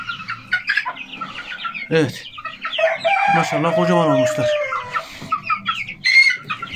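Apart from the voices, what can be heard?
chickens and roosters clucking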